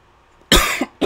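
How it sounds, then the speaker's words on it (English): A person on a basketball podcast coughs close to the microphone, two loud, sharp coughs in quick succession. "I'm picking up the cough on the mic."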